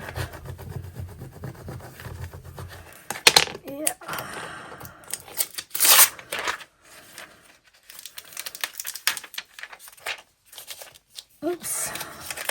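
Craft material is scraped down during Christmas crafting in a series of short, uneven scratchy rubs and crinkles, close to the microphone, with quiet pauses between them and talk nearby.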